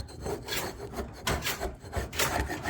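Hand scraping of old wallpaper from an interior wall of a 1934 house, a close, continuous rough rasping in repeated strokes that swell and fade, with no talking.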